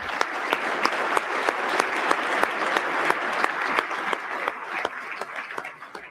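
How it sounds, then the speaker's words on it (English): Applause from a business forum crowd at a commercial real estate event, many hands clapping with some distinct sharp claps standing out, holding for about six seconds and then tapering off toward the end. "Give yourselves a big round of applause for helping support the causes here today."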